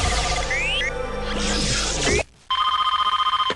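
A telephone rings in a full-motion-video PC game, first muddled under music and sound effects, then after a brief gap a clear repeating electronic ring pulses rapidly at close range.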